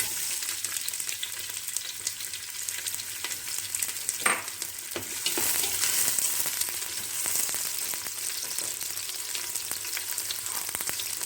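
Onions frying in oil inside a pressure cooker give a steady, close sizzle with a bright crackling hiss, a few louder bursts and stirring scrapes partway through, no talking.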